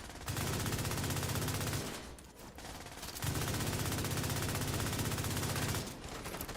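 Sustained automatic gunfire from a shooter video game rattles in two long bursts separated by a short pause, the rapid shots loud and continuous with no voices over them.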